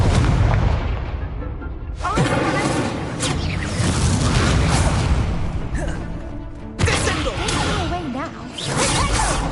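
The Incendio fire spell is cast repeatedly in the video game Hogwarts Legacy, loud fiery whooshes and bursts arriving in several sharp waves amid game effects, with a voice speaking over the action.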